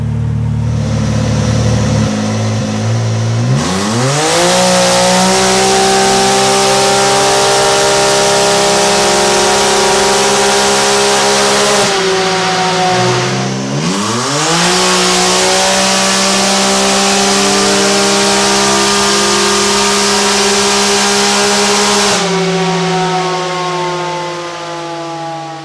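Engine of a 2018 Can-Am X3 side-by-side on a dyno, revving in long rising pulls to a loud sustained high-pitched whine, dropping and climbing again in repeated runs, close and dominant throughout.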